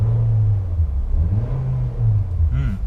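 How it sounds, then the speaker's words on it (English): Engine of a 2017 Nissan Sentra SR Midnight Edition revving, a close, loud rumble that rises and dips in pitch across a few seconds, with no talking. "Car likes to rev."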